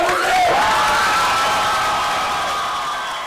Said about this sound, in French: une bonne applaudissement pour